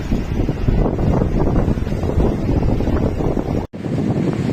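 Loud, steady wind buffeting the microphone, a constant roaring rumble with one brief dropout near the end.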